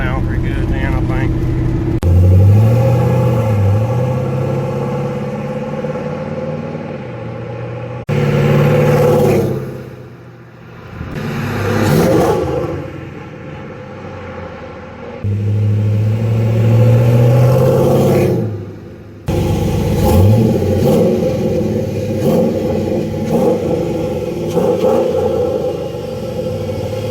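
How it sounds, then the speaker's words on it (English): A 1992 Chevrolet Silverado with an LS 5.3 V8 swap and newly fitted exhaust idles with a deep rumble, rising in several rev bursts separated by brief cutoffs, with someone talking at times. "Well, got the exhaust on her finally."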